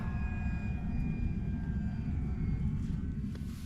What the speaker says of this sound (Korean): 저 비행기 날르는 거 봐줘.